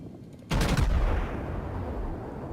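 A naval gun salvo fires in the World of Warships video game, a single heavy boom that breaks in suddenly and rolls into a long, rumbling decay. Loud and close, with no talk over it.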